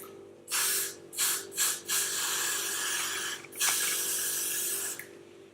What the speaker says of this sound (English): I'm going to be using my Got To Be spray, and I'm just going to be spraying down my edges.